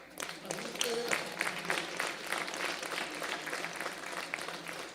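Audience applause at an 8th grade graduation ceremony, a steady mass of clapping from a large crowd that holds for several seconds, with a voice briefly heard over it near the start.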